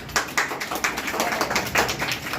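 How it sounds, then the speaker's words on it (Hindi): Children clap together at a village program in Chamarpur, Sadabad, a burst of rhythmic hand claps close by, with a few voices mixed in. "ताली ताली।"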